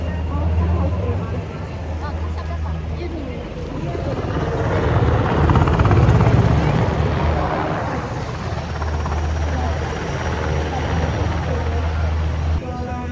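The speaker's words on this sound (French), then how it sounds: "Et pendant ce temps-là, on a un hélicoptère sous." A helicopter flies overhead beneath a low, cloudy ceiling in the rain, its rotor drone swelling louder near the middle and then settling into a steady roar, with indistinct voices murmuring underneath.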